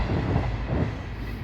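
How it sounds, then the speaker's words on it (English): A train on the Strawberry Line near Wrington Junction rumbles past close by in a brief burst of low, steady rolling noise with faint clattering, and no voices are heard. "Train behind me there."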